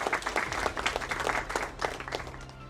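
Audience applause for new South African Academy of Science members at a university research awards ceremony, a steady burst of many hands clapping in a hall, moderately loud and sustained without voices.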